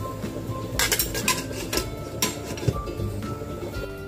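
A metal lid goes onto a cooking pot of pork rib sinigang, with several clanking, scraping knocks of metal on metal over a steady background hum, and no talking.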